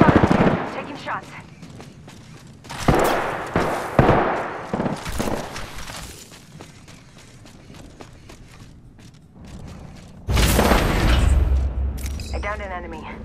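Weapon fire in the video game Apex Legends, bursts of loud gunshots and booming impacts in irregular clusters over in-game effects, with a player talking throughout.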